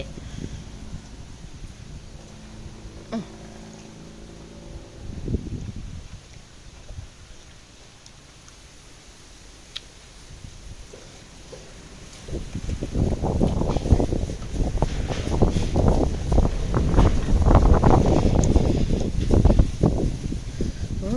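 Strong wind blows in gusts, with light rattling in the first seconds, then a calm stretch before loud, blustery buffeting takes over for the final third.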